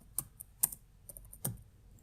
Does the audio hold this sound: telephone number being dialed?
no